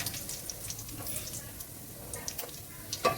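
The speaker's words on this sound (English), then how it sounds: "So now you just want to fry this up with the ghee." Whole spices frying in ghee for a vegetarian curry, a soft steady sizzle up close with light stirring clicks and a brief scrape near the end.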